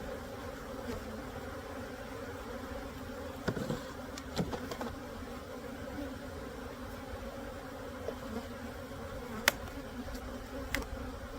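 Honey bees from an agitated hive buzz steadily around the microphone, with a dense, continuous hum and a few louder passes as single bees fly close, and no voices.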